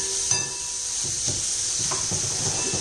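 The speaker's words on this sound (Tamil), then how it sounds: "இப்ப வதக்கியாச்சு வெங்காயத்தை" Onions and chillies sauté in a pan for a ragi dosa, giving a steady sizzling hiss with soft, irregular stirring scrapes and light pan knocks.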